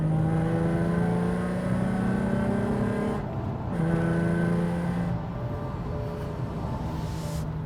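Remapped Nissan 350Z making about 287 bhp, its engine droning and revving up through the gears from inside the car, loud and sustained with brief dips at the shifts.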